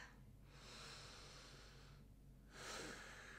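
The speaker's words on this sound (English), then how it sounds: "Now take a deep breath." A long, slow inhale drawn through the nose, followed by a pause and a second audible breath, soft and close in a quiet room.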